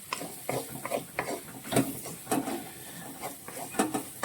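Ground spice masala for a prawn dish being sautéed and stirred in a pan, giving soft repeated scraping and stirring strokes over a low, steady sizzle.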